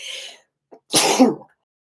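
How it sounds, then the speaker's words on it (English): A single sharp sneeze, with a faint sharp intake of breath before it, close and loud, standing alone in silence. "Ooh, and here comes a sneeze."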